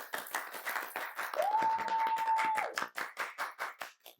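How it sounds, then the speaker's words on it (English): Small group of people clapping for a guest on a podcast set, a faint, quick patter of claps with a sustained whistle-like tone or whoop partway through, then a few separate claps trailing off. "We always got to clap it up for a black man doing it."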